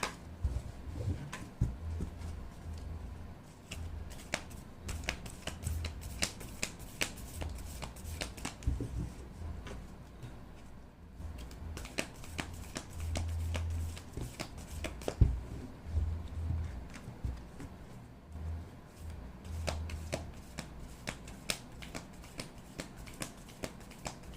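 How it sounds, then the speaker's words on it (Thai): Tarot cards being shuffled by hand for a love-fortune reading, a steady run of soft riffling and papery slaps repeating for the whole stretch, close and alone with no talk. "อาจารย์ขออนุญาตสับไพ่เพื่อเปิดดวงให้กับชาวธาตุน้ำนะคะ"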